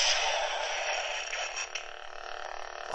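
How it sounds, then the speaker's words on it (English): Qui-Gon Jinn Galaxy's Edge Legacy Lightsaber toy giving a long clash effect, a loud, bright crackling hiss that holds for about three seconds and slowly fades, with no talk over it. "Oh, that was a really long clash sound"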